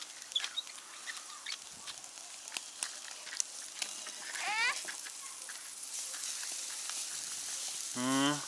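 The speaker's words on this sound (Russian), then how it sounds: "Ты же мясо жаришь." Steady crackling sizzle of meat frying in a pan, continuous and close, with faint bird chirps and quacks in the background.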